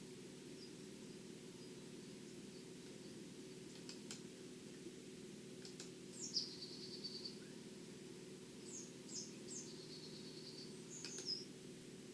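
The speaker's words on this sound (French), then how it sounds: "Tu veux aussi le chant des oiseaux?" Birdsong sound effect: a few short chirping and trilling bird phrases, fairly faint, over a steady low hum with no voices.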